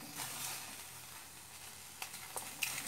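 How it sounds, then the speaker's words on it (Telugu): Chopped green chillies, tomatoes and onions fry in a kadai on the stove, giving a quiet, even hiss with a few light clicks near the end. "స్టవ్ మీద కడాయి పెట్టుకొని ఈ ముక్కలన్నీ ముందు మనం కట్ చేసుకున్న ముక్కలన్నీ వేసుకుందాము."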